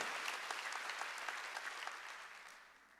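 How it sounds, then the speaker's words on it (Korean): A church congregation at a Wednesday worship service claps in a dense, continuous patter, heard from a distance and fairly faint, slowly fading away. "박수 치라는 거예요."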